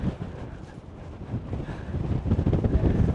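Steady wind buffeting a microphone at a lookout in Waterton Lakes National Park, southern Alberta, a broad low rumble that swells and gusts, growing stronger toward the end, with no voices.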